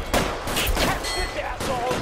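Gunfire in the video game L.A. Noire comes as dense, continuous shooting that fills the whole clip, with shouted voices mixed into the din.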